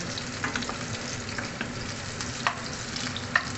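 Onion and garlic sizzle in hot oil in a pan for chicken sinigang, a steady close crackling hiss with a few faint clicks from stirring; no one speaks.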